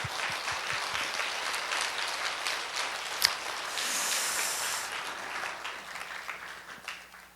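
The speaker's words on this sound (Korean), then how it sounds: "박수로 한번 표현해 봅시다" A church congregation applauding during a Sunday service, steady broadband clapping from many people that holds at an even level, with a single sharp accent midway and a tapering finish.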